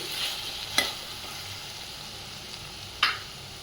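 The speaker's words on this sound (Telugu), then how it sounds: "పులుసులో ఉడుకుతుంది" Drumstick and brinjal simmering in tamarind pulusu gravy, a soft steady bubbling hiss with two sharp utensil clinks against the pot, quiet and close, no voices.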